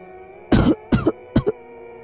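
Three separate coughs, close and fairly loud, with short pauses between them, the last a quick double cough. No talking.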